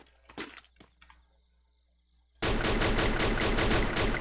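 Rapid gunfire from the battle royale shooter Free Fire bursts in abruptly after a quiet stretch of faint clicks and movement, a loud, dense run of shots repeating steadily to the end.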